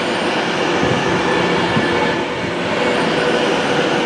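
Non-stop class 392 train at Stafford slowing for a red signal, a loud close rumble of wheels on rails with rhythmic clatter and faint squeal, steady throughout with no voices.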